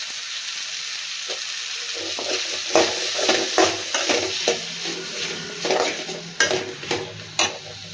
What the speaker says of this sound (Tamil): இப்போ நம்ம கட் பண்ணி வச்சுருக்கிற முருங்கைக்காயை இதில் சேர்த்துக்கலாம்.